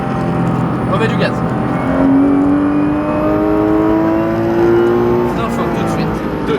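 Close, loud in-car engine of a Porsche 991 GT3 RS on the La Ferté race circuit, climbing in pitch through two acceleration pulls separated by a gear change, with a person talking over the roar.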